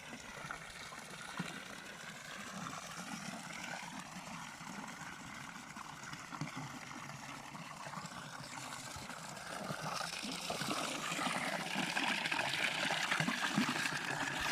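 Cold plateau spring water runs steadily at a mountain spring, a continuous rushing trickle heard close by that grows slightly louder toward the end, with no voices.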